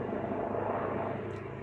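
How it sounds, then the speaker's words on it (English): A helicopter flies overhead, heard as a steady, broad engine and rotor rumble that stays loud and even throughout, with no talking. "that's a helicopter over there."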